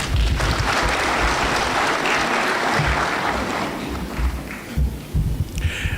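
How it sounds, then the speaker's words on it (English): Sustained audience applause fills a graduation ceremony hall, steady and loud for most of the stretch, with a few dull thumps and a slight fade near the end. "Let's clap for her again."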